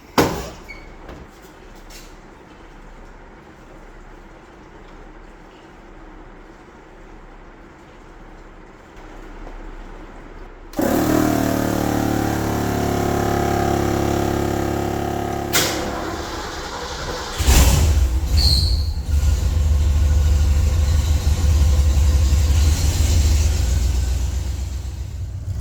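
A Ford F100 farm truck runs out of gasoline. A quiet stretch gives way abruptly to loud, steady engine noise that shifts deeper partway through and carries on to the end.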